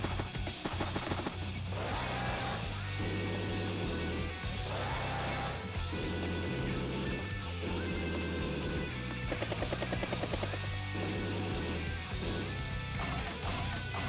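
Battle copters in the video game Advance Wars: Days of Ruin, with a loud, continuous whirring rotor drone and rumbling bursts of gunfire layered over game music, filling the whole stretch without pause.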